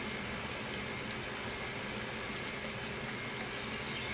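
Steady rush of water being dumped out on a farm at close range, a broad splashing hiss with no voices.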